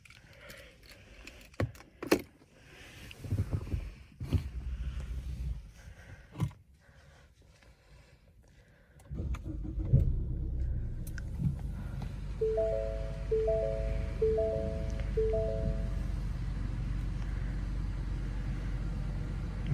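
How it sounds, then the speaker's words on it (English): A 2018 Ford Mustang with the 2.3 EcoBoost engine starts with the door closed: a few faint clicks and key sounds, then the engine catches and settles into a muffled, steady idle rumble heard from outside. "So now let's start the car with the door closed."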